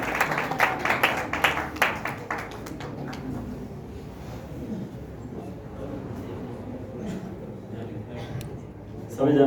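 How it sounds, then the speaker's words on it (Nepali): An audience at a Christian gathering for a Christmas song launch claps to welcome a pastor, a brisk flurry of claps in the first few seconds that fades into a murmur of crowd noise and low voices. "हामीसँग ताली बजाएर उहाँलाई फेरि पनि स्वागत गर्नेछ।"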